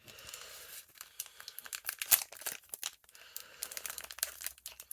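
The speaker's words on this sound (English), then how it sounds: "now I am going to open up a Demon Slayer pack." Foil wrapper of a Demon Slayer trading card pack being torn open up close, a quick run of crinkling rips and crackles, quiet and intermittent, with no voices.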